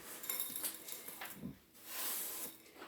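Crushed candy cane pieces scooped into a bowl, giving a run of light clinks and gritty rattles against the dish, close and fairly quiet with a brief pause midway.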